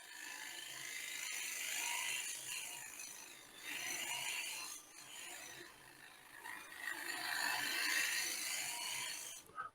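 A shear scraper cuts shavings off metal in repeated scraping strokes, each a few seconds long, producing faint, close, gritty rasping with brief pauses between passes.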